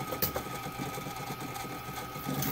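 A homemade Accu Finish style knife grinder motor hums steadily after being switched on, a faint continuous whir with a faint rhythmic pulse and no talking.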